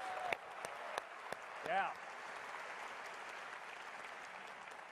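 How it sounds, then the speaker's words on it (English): Audience applause at a live video game presentation rises as a soft, steady wash of clapping in a large hall. A few sharp claps stand out, and a voice calls out briefly. "How about another round of applause"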